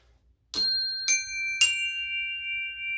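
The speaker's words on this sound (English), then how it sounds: "These are their percussion wind chimes" Three distinct strikes on a set of percussion wind chimes, each bright metallic ring layering onto the last and sustaining as a clear, close shimmering tone.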